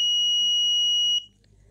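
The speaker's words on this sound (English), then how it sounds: "And pressing 4 will turn on buzzer." An Arduino buzzer sounds one steady, high-pitched electronic tone for just over a second, then cuts off abruptly, leaving near silence.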